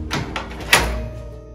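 A house door is shut and locked: a few light clicks and handling knocks, then a firm thunk of the door closing nearby, fading into room hum.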